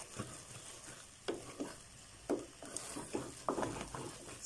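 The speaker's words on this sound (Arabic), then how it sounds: "هكا نبقاو نحركوا فيها بالعود" Thick dried fig jam is worked around a pot with a wooden spoon, giving repeated soft scraping strokes in an uneven rhythm over a low bubbling simmer, close and fairly quiet.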